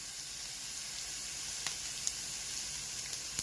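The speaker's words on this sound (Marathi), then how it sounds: "कच्ची मिरची खायला चांगली नसते म्हणून आपण ती थोडीशी परतून घेणार आहोत" Green chilies frying in a pan for Mumbai-style batata vada pav, a soft, steady sizzle and hiss with a few faint pops and clicks, heard alone.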